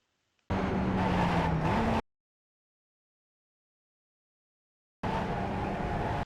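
A Pontiac Solstice race car in the iRacing sim at the Charlotte Roval, engine droning loudly in two bursts with a falling pitch as it brakes and downshifts, separated by a few seconds of complete silence.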